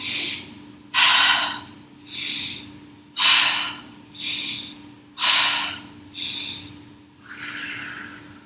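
Deep, forceful breaths during a home yoga split-stretching routine: about eight alternating inhales and exhales, each a loud, close airy rush lasting roughly a second, with steady faint hum beneath.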